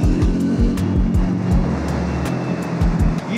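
Motorcycle engine revving with a rough, gritty tone: repeated loud throttle blips rising and falling in quick succession, close by, with a chugging low rumble between the revs.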